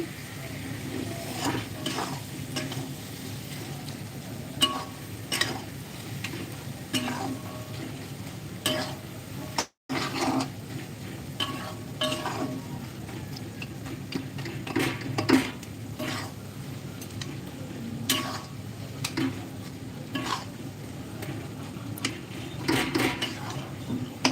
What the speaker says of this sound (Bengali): আপনারা সবজিটা ঢেকে দিয়েছিলাম এখন নাড়িয়ে নিচ্ছি